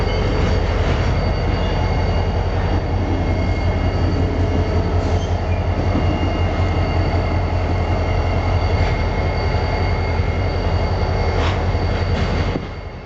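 A long intermodal freight train creeps steadily west close by, wheels clattering and squealing faintly on the rails, with no break in the noise, in Harrisburg.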